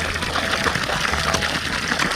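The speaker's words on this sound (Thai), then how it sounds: "น้ำไหลแล้ว" Water gushes steadily from a solar-powered agricultural pump running under weak sunlight, a continuous close splashing flow with no talk over it.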